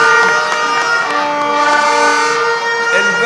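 Car horns honk continuously at a political rally, many sustained overlapping blasts layered into a dense, loud wall of tones with crowd noise and a voice beneath.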